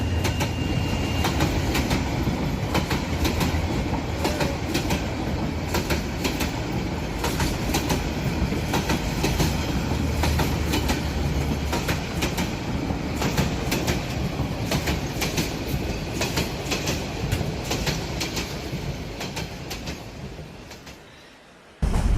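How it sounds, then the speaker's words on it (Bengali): A train rumbles steadily past with continuous rattling and clacking of wheels on track, loud and sustained, before cutting off abruptly near the end. "ওই যে দেখ, ট্রেনটাও এসে পড়েছে"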